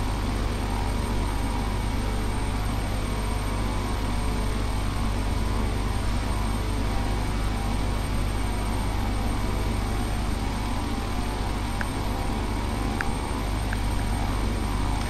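Steady broadband drone of a King Air turboprop's engines in the FSX flight simulator, loud and continuous throughout with no breaks, a constant cockpit roar without speech.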